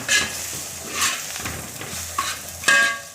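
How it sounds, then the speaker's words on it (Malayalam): Spices sizzle and crackle in a hot pan while a spoon stirs through them, with a few louder scraping bursts against the metal. "നമുക്ക് നന്നായിട്ടൊന്ന് ഇളക്കി മൂപ്പിക്കാം"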